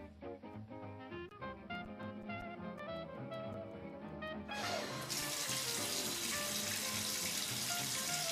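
Water runs from a tap in a steady, rushing splash that starts partway through, after a stretch of music, and continues to the end.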